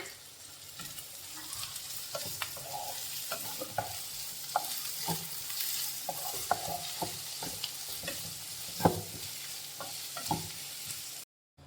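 Crushed garlic, ground ginger and a few curry leaves sauté in a pan for a Kerala squid roasted-coconut curry, with a steady sizzle and repeated scraping stirs of a spoon, close and continuous, with no talk.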